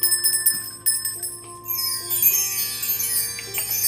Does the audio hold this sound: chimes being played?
yes